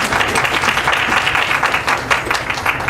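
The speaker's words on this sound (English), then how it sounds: "clap for yourself for being here and being mindful" Audience at a leadership event breaks into sustained applause, a dense, loud wash of clapping from many hands throughout.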